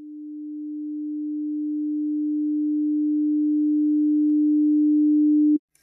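A pure sine riser synth built in Ableton Operator holds one low steady pitch and swells gradually louder over about five seconds, then stops abruptly.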